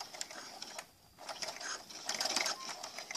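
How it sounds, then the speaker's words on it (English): A sewing machine back-stitches an apron neck band in short, quiet mechanical bursts of rapid clicking, broken by a brief pause. "And do a back stitch a couple of times."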